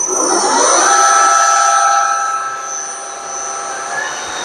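A milling machine spinning at about 600 RPM while taking a light cut on a workpiece for milling table stops, a loud steady whine with sustained high tonal ringing that swells and eases slightly, heard up close with no talking.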